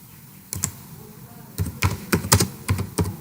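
Typing on a computer keyboard, a few isolated key presses followed by a quicker run of close, crisp clacks in an uneven rhythm, loud against a quiet room.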